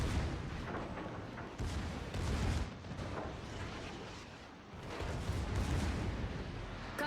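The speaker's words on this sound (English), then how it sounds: "Denny's secondaries are opening up." Battleship secondary guns fire in World of Warships, a dense barrage of heavy booms and rumbling blasts that roll continuously, loud and close, with bursts intensifying in waves.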